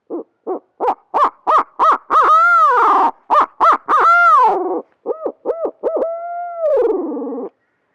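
A locator call blown for turkey hunting sends out a series of loud, close owl-style hoots, rapid short notes building into longer drawn-out hoots across several phrases.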